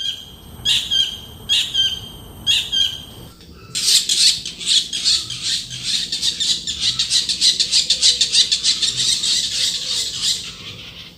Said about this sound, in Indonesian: Burung ini dikenal luas di dunia sebagai kingfisher, raja para pemangsa air